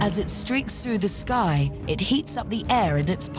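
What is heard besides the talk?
None of the usual background noises is heard.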